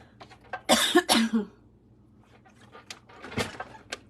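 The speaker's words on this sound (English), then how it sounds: "Of course, I would get a cough when I, start." A close, harsh double cough near the start, followed by quieter throat sounds and small rustles.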